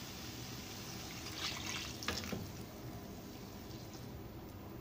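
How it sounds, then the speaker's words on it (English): Water pours steadily into a pan of rajma masala, red kidney bean curry, a soft continuous rushing splash that swells briefly midway, close and alone without talk. "Now I'll add water to this."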